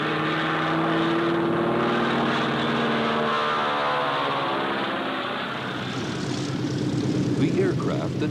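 Vintage Harvard training aircraft, over 40 years old, drone past with a steady propeller-engine roar that holds loud throughout and swells slightly near the end, with no talk over it.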